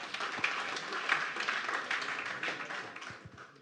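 A live audience applauds at a talk, a faint, steady wash of many hands clapping that holds for a few seconds without a clear break.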